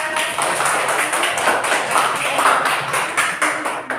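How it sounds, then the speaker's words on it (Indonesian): An audience applauds at a school academic supervision session, with steady, dense clapping that runs throughout at a fairly even level and no talk on top. "Tepuk tangan."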